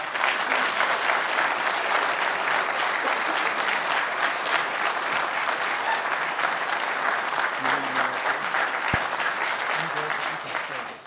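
Applause from the audience at a transit board meeting, sustained, even clapping from many hands filling the room for about ten seconds before tapering off, with faint voices underneath.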